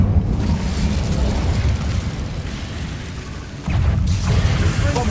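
A fire spell cast in Hogwarts Legacy roars as a dense, loud burst of flame and rumble, dipping slightly before a fresh blast swells up again near the end, with no voices.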